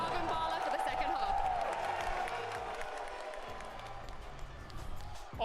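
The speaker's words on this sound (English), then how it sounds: "Make some more noise for Crew, everyone." Crowd at a Valorant esports watch party cheering and clapping after a call to make noise for a team, a steady roaring wash of voices and applause that fades slightly over several seconds.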